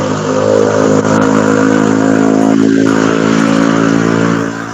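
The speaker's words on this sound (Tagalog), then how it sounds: "ang ingay ng tricycle." A noisy motorized tricycle passes along a roadside, its engine droning loud and steady close by with a rough, buzzing mid-range tone throughout.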